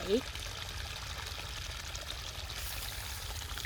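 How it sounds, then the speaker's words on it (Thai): Water flowing through a freshly dug channel, a steady soft trickle and gurgle under a woman's speech. "น้ำที่ไหลน้ำที่ไม่นิ่ง ก็คือน้ำที่มีชีวิต"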